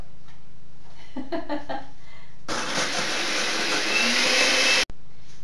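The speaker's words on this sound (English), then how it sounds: "I'm going to turn the blender on for 1 minute. It's really loud." A blender roars loudly for a couple of seconds while making almond milk, a dense whirring motor noise that cuts off abruptly, preceded by brief clattering and handling sounds.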